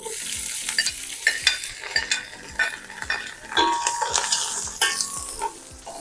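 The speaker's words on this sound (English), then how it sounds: "Okay, so we're going to throw in our mushrooms now." Mushrooms tossed into a hot pan with charred onion for veggie lo mein set off a loud steady sizzle, with repeated scraping and clacking stirs of a utensil against the pan, close and without talk.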